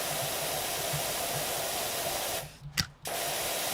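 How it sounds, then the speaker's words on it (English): A pressure washer sprays continuously in the video game PowerWash Simulator, a loud steady hiss with a faint rhythmic pulse, broken by a brief cut-off and a sharp burst near the end. "Hey, look at all this spray."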